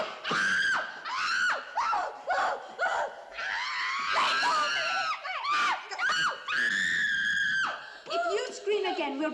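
Shrill, sustained screaming from a girl in a 1969 film fills the scene, with repeated panicked cries and yelps, loud and close, mixed with excited shouting from other voices.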